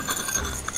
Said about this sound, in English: I'll try to cut a hole in the glass.